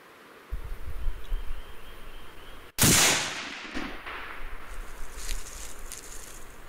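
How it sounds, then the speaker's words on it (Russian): A single loud, sharp rifle shot from a Tikka T3x Lite .308 carbine being sighted in with a thermal night scope, cracking about midway and trailing off in a rolling echo over steady outdoor background noise. "выстрел"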